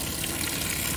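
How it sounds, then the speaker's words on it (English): Water from a heated shower head sprays hard into a bucket nearby, a steady loud hiss and splash filling the whole second without a break. "And just got it going into a bucket, just simulating the shower."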